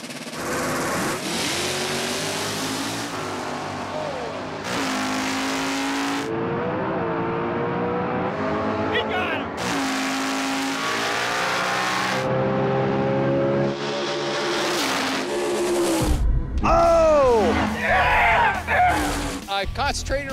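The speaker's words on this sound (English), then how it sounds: "It's a 92 S10, small tire truck, Andy Jensen motor in it." A 1992 Chevy S10 small-tire drag racing truck with an Andy Jensen motor, at a drag race at Maple Grove Raceway; the engine revs and roars steadily for the whole stretch, mixed under talk and music with shifting pitch.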